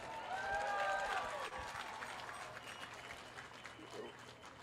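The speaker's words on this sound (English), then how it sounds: "give that a round of applause" A crowd bursts into applause with cheering that stays loud for a moment, then fades into scattered clapping and murmuring.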